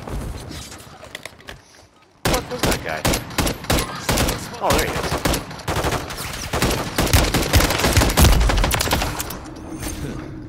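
Rapid gunfire in Call of Duty during target practice: a quiet lead-in, then a sudden burst of dense, fast shots that keeps up, loud and close, with heavier low thumps building toward the end.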